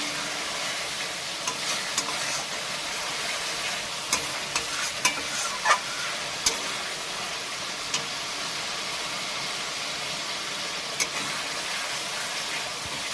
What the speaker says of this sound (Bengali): দেখুন ফ্রেন্ড আমার মশলাটা কষানো হয়ে গেছে